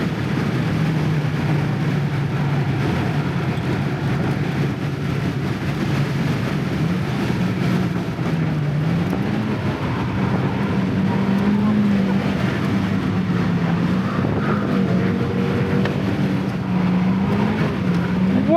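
A 2009 Honda Fit engine drones steadily through track laps, its pitch dipping and rising with rev-matched downshifts, loud and continuous inside the cabin with faint talk underneath.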